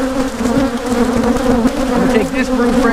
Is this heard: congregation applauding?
no